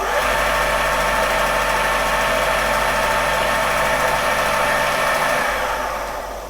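A Creed 7B Mark 1 teleprinter motor spinning steadily, a loud continuous whirring hum with a constant pitch that holds throughout, then fades slightly at the end.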